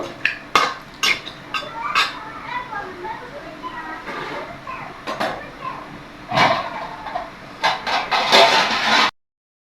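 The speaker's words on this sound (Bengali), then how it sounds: "দেখে মাংস এভাবে কষিয়ে নিচ্ছি, কষানো হয়নি।" Meat stirred and fried in a cooking pot, with scraping, clanking utensil strikes against the metal pot among sizzling, while a person talks over it.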